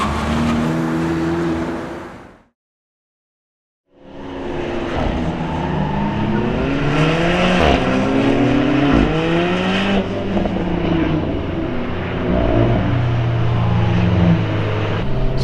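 Cars lap a short circuit at a trackday at Vancouver Island Motorsport Circuit, including an instructor's BRZ and a Cayman S. Engines rise and fall through gear changes as they pass close by after a brief silence.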